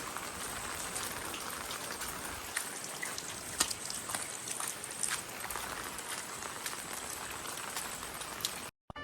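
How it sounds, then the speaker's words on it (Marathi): Steady heavy rain pours continuously, a dense hiss with scattered louder drops, no voices, cutting off abruptly at the end. "पाऊस चालूच आहे पाऊस काही थांबला आहे नाही अजिबात"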